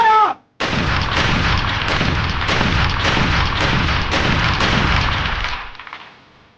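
Soldiers on a firing range open fire together right after a sharp shouted command, producing a dense, continuous roar of rifle shots that lasts several seconds and then fades out.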